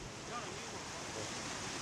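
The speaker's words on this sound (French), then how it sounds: "ils affrontent la violence des vagues qui s'abattent contre eux" Broad, steady wash of surf at a beach on the Corniche, waves pounding continuously and fairly loud with wind noise mixed in, no distinct individual breaks, no voices.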